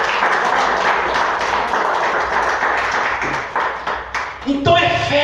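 A church congregation claps together in dense, sustained applause, loud and close, with a voice cutting in near the end.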